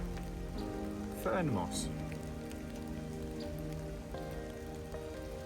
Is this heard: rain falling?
yes